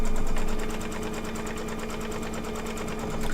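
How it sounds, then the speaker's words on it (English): An embroidery sewing machine stitches an appliqué butterfly, giving off a fast, even mechanical whirr with rapid needle clatter and a steady hum, close and continuous throughout. "fancy stitching too, which is really nice"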